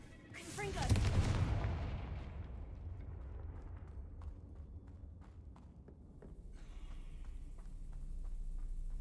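A magical Confringo blast in a video game booms out loudly about a second in, then rumbles and fades, followed by softer scattered pops and a low background rumble.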